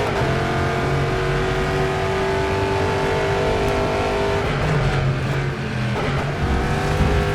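A GTE race car in the rFactor 2 sim racing game, its engine holding a loud, steady high-revving drone throughout, with slight shifts in pitch and no voices.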